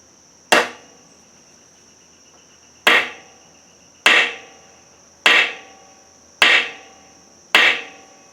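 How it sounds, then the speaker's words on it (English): Six sharp metallic hammer blows drive a part into place on a 1974 Suzuki TC 125 under rebuild, struck close and loud with ringing decay, spaced about a second or more apart after an initial pause. "I'm just hammering it in place a little bit."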